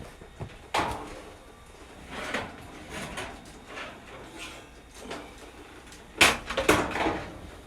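The bottom broiler drawer of an older gas stove is pulled open, with a few sliding metal scrapes and clunks, the loudest rattle coming near the end, close up and without talk.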